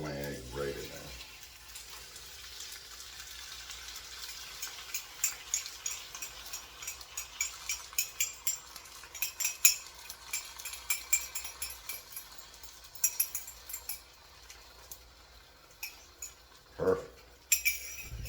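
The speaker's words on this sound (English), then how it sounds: "I'm just going to scramble these up with the spinach right in there" Eggs and spinach are scrambled in a pan with a spatula: light irregular scrapes, clicks and taps against the pan, with a louder knock near the end, over a quiet background.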